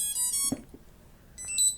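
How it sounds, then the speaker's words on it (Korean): A drone flight controller board's buzzer beeps at power-on: a bright, tonal multi-note chime at the start, a quiet pause, then a second short burst of beeps near the end, close and alone without talk. "전원을 넣었더니 이런 부저 소리가 들렸고요."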